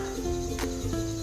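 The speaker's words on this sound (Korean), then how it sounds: "매미 소리 들리죠?" Cicadas and other summer insects buzz steadily in the background of an outdoor morning walk on a breezy day, a continuous shrill drone with no voices.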